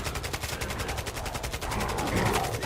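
Rapid automatic rifle fire from a Kastov in a Minecraft Bedrock guns addon, a dense run of sharp game gunshots in quick rhythm that stays loud throughout and swells slightly near the end.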